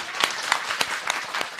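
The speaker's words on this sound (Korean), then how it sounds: "김난도 교수님의 강의를 박수로 청해 보도록 하겠습니다." A radio studio audience claps to welcome Professor Kim Nan-do, with sharp individual claps in an uneven rhythm over a short, moderate burst.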